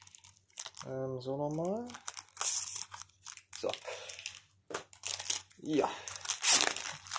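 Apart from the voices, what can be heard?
plastic shrink wrap being torn off a manga volume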